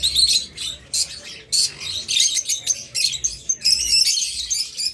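A pair of orange-head opaline red-eye pet birds chirps in quick, bright bursts close by. The chirps repeat steadily throughout, with no one speaking.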